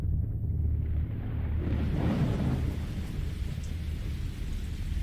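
Thunder rolls over steady heavy rain in a horror video game, a deep rumble swelling in the middle of the clip beneath constant loud rainfall, with no voices.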